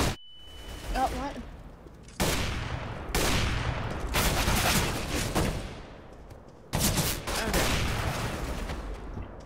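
Gunfire erupts in a casual CS:GO match: several loud bursts of rapid automatic fire separated by short pauses, close and dense, with a player speaking between them.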